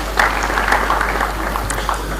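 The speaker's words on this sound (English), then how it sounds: "Please, another round of applause for him." Steady audience applause at a Nigerian launch ceremony for a unity band, a dense, even wash of clapping held at moderate loudness throughout, with no voices over it.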